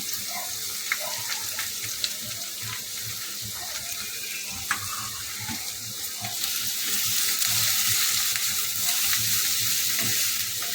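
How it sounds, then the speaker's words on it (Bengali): Chopped onions lightly frying in a pan, a steady close sizzle with intermittent stirring scrapes and soft clinks, swelling slightly louder toward the end. "পেঁয়াজটা হালকা করে ভেজে নেব"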